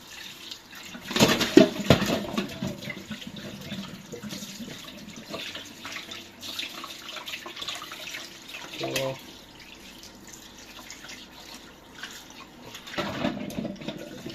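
Plaice fish is washed by hand under running tap water. Water splashes and trickles intermittently with louder bursts of rinsing, while a person speaks over it.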